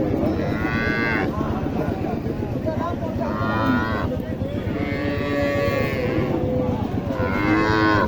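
Cattle bellow at a livestock market in Naogaon, Bangladesh: several long, loud moos rise over a busy crowd of chattering voices.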